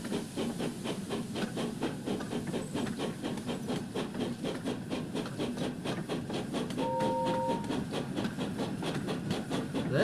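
A Thomas & Friends Wonders of Sodor toy tender engine running along its track after leaving Knapford, a steady rapid clicking rattle with a faint whistle-like tone near the end, quiet and continuous.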